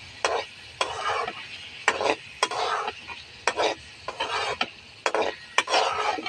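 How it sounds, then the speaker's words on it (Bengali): Singi catfish stir-fries in spice paste in a pan, a low sizzle broken by regular scraping strokes of a spatula, about a dozen rhythmic swipes, close and moderately loud, with no voices. "শিং মাছটা দিয়ে আবার কিছুক্ষণ কষিয়ে নেব সুন্দর করে"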